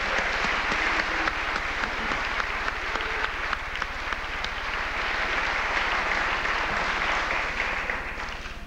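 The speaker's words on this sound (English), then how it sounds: "and they deserve the applause" Sustained applause from a banquet audience at an awards dinner, steady dense clapping filling the room for the whole stretch without a break.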